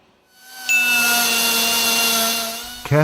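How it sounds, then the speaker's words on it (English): A tool scrapes a wear ridge from the top edge of a main engine's cylinder liner, giving one sustained, loud, ringing scrape close up that ends with a brief scratch. "Carefully remove any wear ridges at the top of the cylinder liner."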